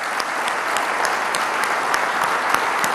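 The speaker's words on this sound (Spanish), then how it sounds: "Y un aplauso para ustedes." A crowd applauding at a political event honoring Malvinas war veterans, loud, dense and steady clapping throughout.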